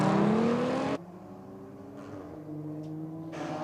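An Audi and a Volkswagen Passat wagon race, with a loud engine roar that cuts off abruptly, leaving a quieter droning hum that swells again near the end.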